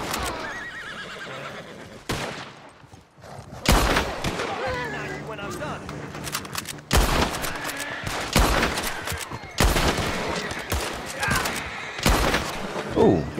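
Repeated sharp gunshots crack out in a video game, several spaced bursts across the scene, mixed with horses whinnying and hoofbeats near a wagon while players talk over the action.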